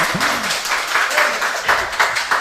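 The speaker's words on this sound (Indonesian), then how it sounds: "kita tepuk tangan dulu untuk tim-tim dari Babasal" Applause for the Babasal teams at a regional economic data analytics session, a moderate patter of clapping rising and falling in waves, with a voice briefly audible at the start.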